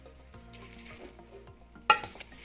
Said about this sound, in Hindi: बॉइल्ड राइस इसमें शामिल कर दिए हैं। अब करते हैं इनको अच्छे से मिक्स।